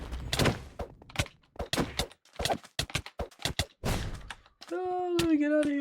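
Flame Frags go off in Minecraft Java Edition on a practice map, making a series of sharp, punchy blasts and thuds in an uneven rhythm, close and fairly loud, ending with a rising whistling tone.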